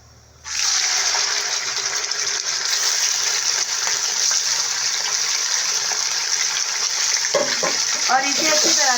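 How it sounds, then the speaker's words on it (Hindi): Chicken for a curry hits hot oil in a pan with a sudden loud burst of sizzling that holds steady and close, and a voice speaks briefly near the end. "और इसे अच्छी तरह से फ्राई करेंगे।"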